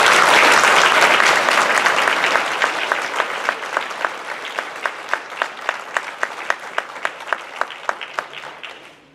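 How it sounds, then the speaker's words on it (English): Applause from an audience at a city council meeting in Sunbury, Pennsylvania: dense, loud clapping that swells at first, then thins into a handful of distinct claps fading out over about nine seconds. "if everybody can just give them a round of applause so that they can hear it."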